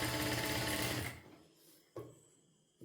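A sewing machine stitches a piece of beaded fabric in a fast, steady burst that winds down after about a second, followed by faint mechanical clicks.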